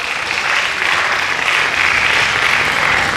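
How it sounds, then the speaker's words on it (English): Steady, dense applause from a large conference audience at a university valedictory session, a continuous wash of clapping at even loudness with no voices rising above it. "a big round of applause for their hard work"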